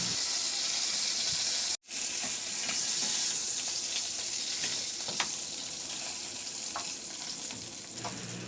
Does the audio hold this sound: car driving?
no